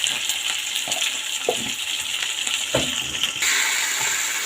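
Ginger garlic paste fries in a pan with a hissing, watery sizzle. A few brief clicks of stirring break the sound, and it grows slightly louder near the end.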